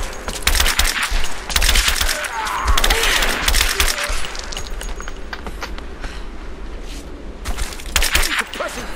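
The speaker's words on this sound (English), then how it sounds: "Open fire! Give me suppressing fire!" Sustained suppressing gunfire in the Rise of the Tomb Raider abandoned mines, loud bursts and cracks mixed with footsteps and movement, with shouted voices over the combat.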